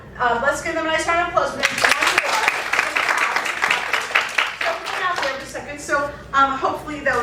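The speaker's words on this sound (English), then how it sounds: "So let's give them a nice round of applause." An audience at an improv comedy show breaks into a few seconds of loud, dense clapping, with voices talking just before and after.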